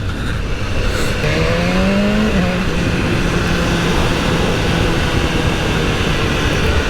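A BMW S1000R motorcycle engine droning steadily while riding a mountain road near Sainte-Engrâce, loud and continuous with wind rush, the pitch rising briefly as revs climb early on, no voices.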